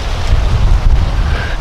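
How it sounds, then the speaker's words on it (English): Wind buffets an outdoor microphone in a low, loud, rumbling roar with uneven gusty swells, heard alone over a short moment. "No, it's just the wind."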